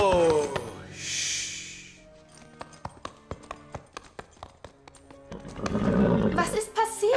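A horse neighs loudly at the start, then hooves clip-clop in a quick run of distinct knocks before another whinny and snorting close by, with animated cartoon dialogue and effects around it.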